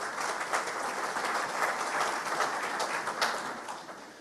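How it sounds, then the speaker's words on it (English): At a conference, an audience breaks into a sustained round of applause, dense even clapping at moderate volume that swells and then begins to taper off near the end. "So a round of applause for them."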